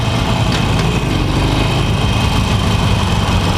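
A 2018 Harley-Davidson Forty-Eight Special motorcycle engine running under a rider, a steady loud rumble with constant wind noise and no clear rev changes over a few seconds.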